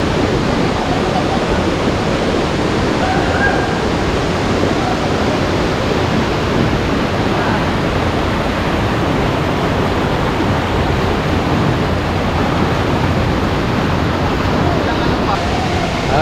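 Ambon-Ambon Falls in Panguil, Laguna, roars constantly, a dense, even rush of falling water that stays loud and unbroken throughout.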